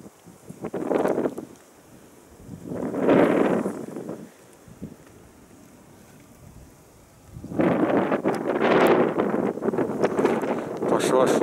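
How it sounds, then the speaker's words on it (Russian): Strong wind sweeps across a frozen Irtysh river channel in winter, heavy gusts buffeting the microphone in several surging bursts separated by quieter lulls. "Ветер сильный."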